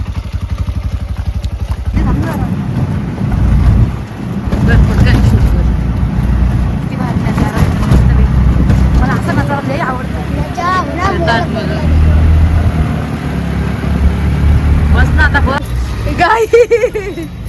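Steady engine drone of an auto rickshaw carrying passengers, a continuous low rumble throughout with people talking over it.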